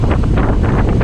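Wind rushes against the microphone during a bike ride on Boracay Island, a loud, buffeting roar with gusty swells across a brief moment and no clear voices.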